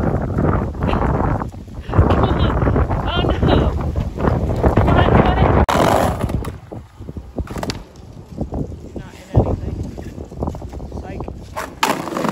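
Heavy wind buffeting a microphone outdoors during a skateboarding session, a steady loud roar with gusts, and people talking over it.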